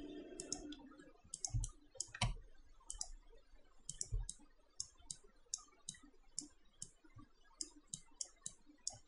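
Computer mouse clicked repeatedly while working in Photoshop, a string of small, crisp, close clicks at an irregular pace, some in quick pairs, quiet and alone with a few soft low thumps early on.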